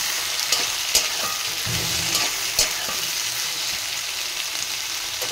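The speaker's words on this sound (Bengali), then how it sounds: "এখানে সবজি আমি হালকা করে তেলের ওপর নেড়ে নিলাম।" Chopped vegetables stirred and fried in oil in a home kitchen pan give a steady loud sizzle, with a few sharp clinks of the spatula against the pan throughout.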